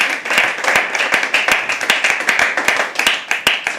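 A small crowd at a live poetry open mic claps in lively, uneven bursts, with individual hand claps standing out close by.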